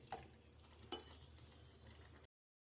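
Tomato gojju with coriander leaves cooking in a pan, heard as faint stirring scrapes and a single sharp clink of the spoon against the pan over a quiet sizzle, with no talk.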